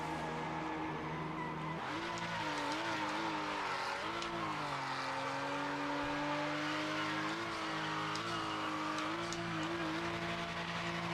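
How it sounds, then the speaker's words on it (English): Game car in PMR doing burnouts in a small, cramped space: a continuous loud tyre squeal with a revving engine whose pitch rises and falls, running steadily throughout with no talk. "I reckon I could do burnouts in here"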